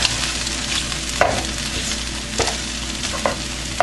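An egg and tortilla mixture is stirred in a hot pan, a constant low sizzle with a few distinct scraping strokes spaced about a second apart, close up and without talk.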